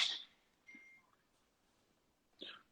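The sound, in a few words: phone notification beep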